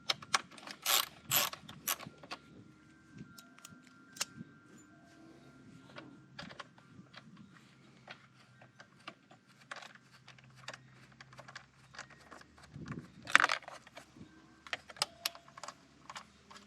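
Screws backed out of the light cover on a Sur Ron electric dirt bike, heard as close, quiet ratcheting tool clicks and small metallic taps in irregular bursts, with a louder clatter partway through and no talking.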